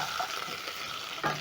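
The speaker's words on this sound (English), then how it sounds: "So I'm going to stir." Food being stirred in a sizzling pot while cooking pork, a soft frying hiss with light scraping, close and steady, with a brief louder stir near the end.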